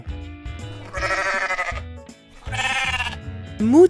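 A farm sheep bleats twice, each a wavering, nasal call lasting about a second, close and clear, with soft shuffling between and no one talking.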